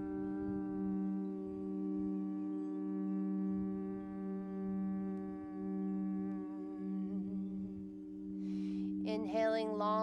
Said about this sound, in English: And your entire exhale is a hum.